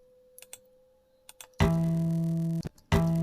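Dry electric guitar harmonics with the effects removed: a few faint taps, then a sudden bright sustained chord of harmonics ringing out, a short break, and another strike, close and alone.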